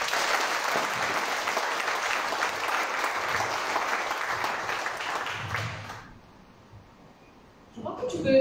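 Audience applause on stage at a ceremony where a wheelchair athlete, world 100 m champion, is presented with a car; sustained crowd clapping that cuts off abruptly, leaving a quiet pause before talk resumes.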